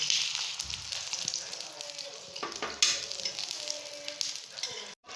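Shami tikki patties fry in a pan with a close, steady sizzle and crackle, broken by occasional clinks and scrapes as they are turned.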